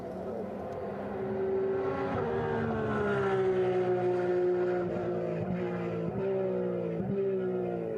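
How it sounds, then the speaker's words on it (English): A Porsche 911 race car roars down the front straight at a race circuit during a Porsche Rennsport Reunion event, its loud engine note rising and then falling as it passes, with brief shifts heard near the end. "I want you to hear this number 911 as it comes down the front straight"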